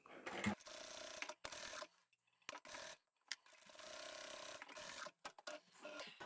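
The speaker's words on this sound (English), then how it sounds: "I'm going to sew up a little bit, backstitch, then I'll leave that gap and sew again at the top end" A sewing machine stitches a zippered pocket into a vinyl handbag, running in close, rapid mechanical bursts that start and stop with short silent gaps.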